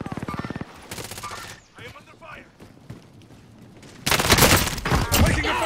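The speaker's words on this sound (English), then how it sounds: "I am under fire." Gunfire from the video game Modern Warfare on Rebirth Island, loud bursts of rapid shots at the start and a heavier, sustained volley near the end, with players talking over the action in between.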